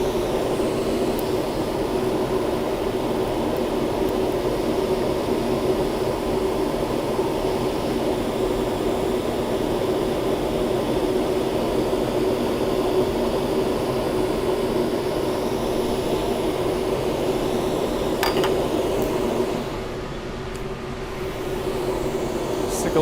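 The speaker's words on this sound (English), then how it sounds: "Listening to the dust collector." A workshop dust collector runs steadily as a loud, continuous whooshing roar with a low hum, unchanging for the whole stretch until it dips slightly near the end.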